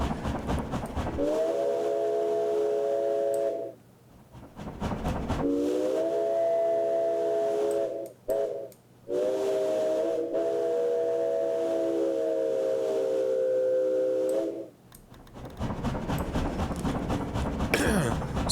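A steam engine runs close by and loud, giving off a steady whistle-like harmonic tone in three long stretches separated by short breaks, with a hissing rush in between and no talking.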